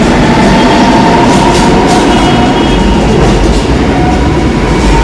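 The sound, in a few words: Kochi metro train departing Kalamassery station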